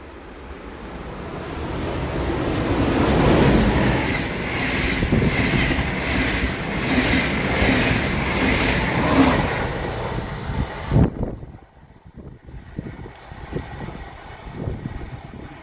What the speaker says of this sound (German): Zug.